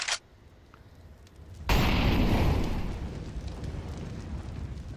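Grenade blast in Counter-Strike during a BLAST Premier Spring Showdown 2023 match, a sudden loud booming explosion with a rumbling, crackling tail that lingers for several seconds over quieter game ambience.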